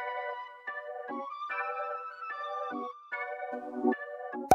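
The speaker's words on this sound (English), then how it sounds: "I found this flute inside my sample pack thingies." Flute sample layered in a beat, one copy pitched down and another pitched up an octave, playing short sustained phrases with pauses between them, fairly loud and alone without any talk.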